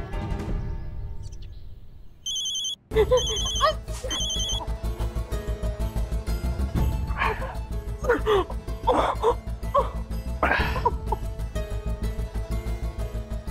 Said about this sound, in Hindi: हमको लग रहा है फोन की घंटी बजी।